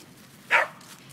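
A single short puppy bark rings out at a dog run, loud and close, standing alone against a quiet outdoor background.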